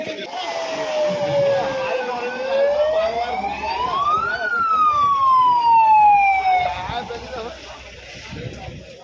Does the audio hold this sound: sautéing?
no